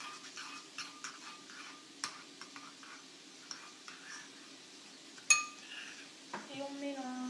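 Slime tinted with drops of blue dye is stirred in a container, giving quiet scrapes and light clinks close by. A soft voice is heard near the end.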